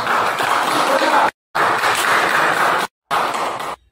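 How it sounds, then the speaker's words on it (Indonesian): A class of high school students applauds a student group in an economics and accounting lesson, with dense, even clapping in three bursts split by short silent gaps. "tepukan untuk kelompok"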